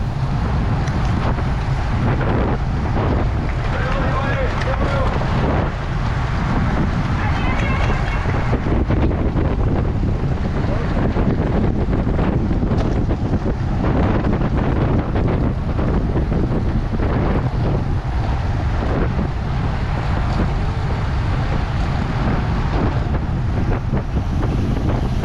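Strong headwind roars across the microphone during an amateur bicycle race, a loud constant rushing buffet that fills the whole stretch and buries any other sound.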